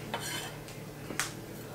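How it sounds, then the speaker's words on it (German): A dishwasher running in a home kitchen gives a steady low hum throughout, with light clinks of cutlery and dishes on top and no talking. "das ist der Geschirrspüler, der läuft nebenher"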